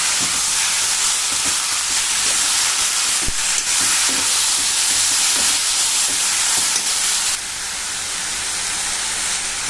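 Guar beans (cluster beans) frying in a pan with onion and tomato, a loud steady sizzle close up with scattered scraping clicks from stirring, the hiss easing slightly near the end.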